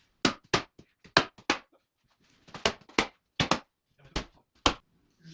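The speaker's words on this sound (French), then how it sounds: "Marteau agrafeur." A hammer tacker drives staples into a rain barrier membrane while an aluminium window frame is prepared, giving a series of sharp, close impacts in irregular bursts of two or three, separated by short quiet gaps.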